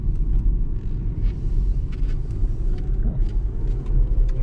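Electric car driving on pavement on tires without foam inserts, heard from inside as a steady low tire-and-road rumble with a faint high hiss, continuous and fairly loud, with no talking.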